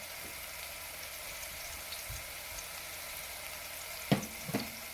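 Onions with herbs sautéing in seasoned olive oil give a steady, soft frying hiss close by, with a couple of brief stirring clatters near the end and no talk.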